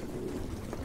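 Pigeons coo in the video game Life is Strange, a low soft burbling that runs steadily through the short moment at moderate loudness with no voice over it.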